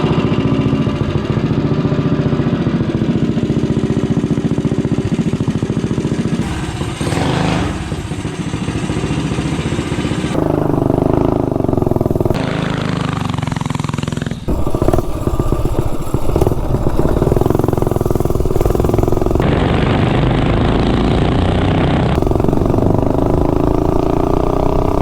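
Minibike powered by a mildly built Tillotson 212 engine running and being ridden, a loud, close, steady buzzing engine note that holds and shifts with revs for the whole stretch, with no speech.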